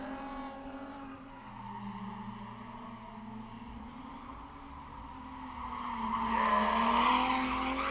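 A drift car on a track at a test-and-tune day, its engine droning and revving with clutch and throttle changes, tires squealing into a louder skid near the end; a sustained, fairly distant roar with no talk.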